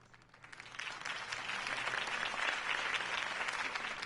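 Crowd applause in a video game swells, starting faint and quickly building into steady, dense clapping that holds for several seconds.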